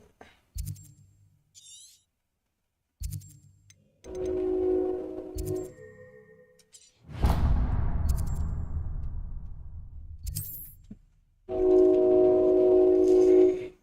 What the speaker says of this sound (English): Train be coming through so disrespectfully.